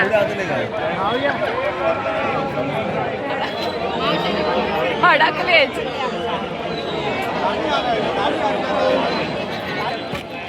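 A dense crowd mills at the Sateri jatra, a village fair in Mhapan, with continuous babble and chatter close around and nearby voices talking over the steady hubbub.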